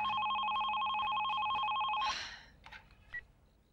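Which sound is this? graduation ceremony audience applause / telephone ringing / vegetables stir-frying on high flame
telephone ringing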